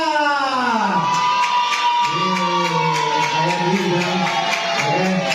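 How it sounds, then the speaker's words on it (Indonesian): Crowd at a live Islamic recitation competition cheering and whooping, with children's shouts among the voices, loud and continuous throughout. "Mana tepuk tangannya untuk Manja?"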